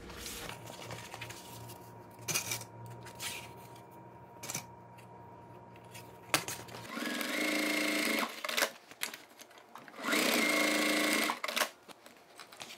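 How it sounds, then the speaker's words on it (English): Sewing machine stitching the short sides of toiletry bag pockets in two short bursts late on, close and clear, after a stretch of clicks, taps and fabric handling. "we are now going to sew on the short sides of all the 4 pockets"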